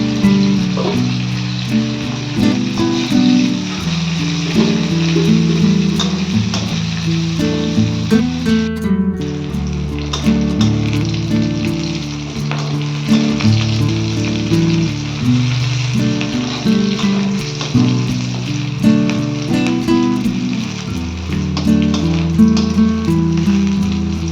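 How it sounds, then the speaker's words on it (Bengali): Slit green chillies and garlic sizzle and crackle in hot oil in a pan, a loud, continuous frying hiss with scattered pops and occasional clinks, while background music plays. "চেরা কাঁচা লঙ্কা দিয়ে দেবো আর রসুনটা দিয়ে দেবো একসাথে এটাকে ভেজে নেব"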